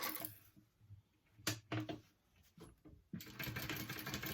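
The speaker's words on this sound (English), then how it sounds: "And you're going to top stitch that at an 1/8." A sewing machine top stitching a fabric pouch panel at an eighth-inch margin with a long stitch length, heard as short bursts of whirring stitching, then a steady run near the end.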